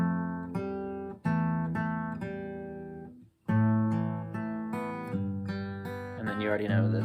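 Solo guitar plays the second climbing passage of a piece, a run of plucked notes and chords rising in steady phrases, close and clear, with a brief pause midway before the playing resumes.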